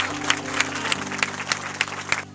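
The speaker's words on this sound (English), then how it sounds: "Let's give them a round of applause." An election night crowd in Bloomington claps in a short burst of applause, with sharp rhythmic peaks of clapping over a low hum, fairly close but modest in level.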